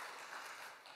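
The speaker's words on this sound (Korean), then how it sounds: "감사와 영광의 박수 올려드리겠습니다." A church congregation gives a soft, sustained round of applause during a Christmas worship service, a steady wash of distant clapping at low level that tapers slightly toward the end.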